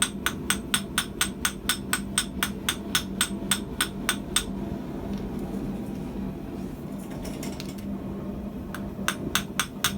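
A small long-nose peening hammer strikes hot small rivets in a rapid, evenly spaced run of sharp metallic taps, pausing for several seconds, then resuming with a few more quick blows close to the mic.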